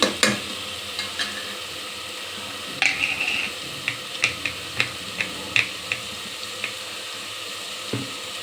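Spices such as garam masala and coriander powder are stirred into oil in a frying pan, with a faint sizzle beneath a series of sharp, close clinks and taps of a spoon against the pan.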